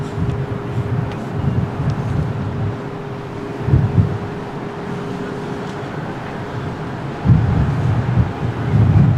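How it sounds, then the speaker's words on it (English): Strong, gusty wind buffets the microphone at Lisbon Airport on a blustery day, a steady low roar swelling into heavier bursts around the fourth second and again near the end. "Very windy day."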